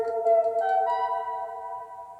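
Soft Chimes preset on the Fruity DX10 FM synth in FL Studio, heavily tweaked: a sustained, bright bell-like chord with shimmering overtones, stepping up in pitch around halfway and then ringing steadily, slowly fading, alone.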